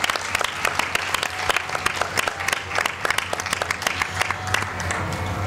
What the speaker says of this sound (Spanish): Brindamos un fuerte aplauso para todas las damas miraflorinas que han sido homenajeadas de esta manera por el Día Internacional de la Mujer.